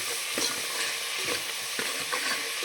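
Ground masala of onion, coriander leaves and garlic fries in hot oil for mutton keema sambar, a steady close sizzle broken by a few scraping stirs of the spoon.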